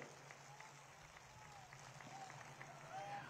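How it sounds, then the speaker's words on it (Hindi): Crowd applause at a large outdoor political rally in Piprai, a steady wash of clapping that continues evenly throughout, heard from a distance and fairly faint. "तालियों की गड़गड़ाहट से हम धन्यवाद अर्पित करें"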